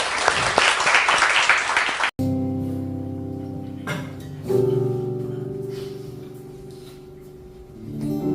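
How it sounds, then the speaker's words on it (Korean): A church congregation claps in praise at a Sunday worship service. It is a dense, loud burst of applause for about two seconds, then it cuts off abruptly and sustained instrumental worship music takes over. "하나님께 영광의 박수 올려드리겠습니다."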